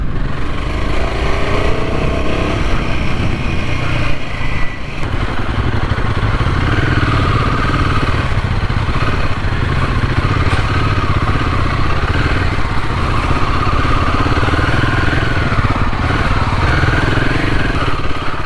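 A motorcycle rides over a short, rough half-road trail near Markandeya Hills outside Bangalore, with a loud, constant engine drone and rattling clatter from the bumpy ground for the whole stretch.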